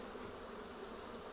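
Honeybees buzz in a steady, low drone throughout a hive brood inspection. The hum is continuous and fairly faint, with no talking over it.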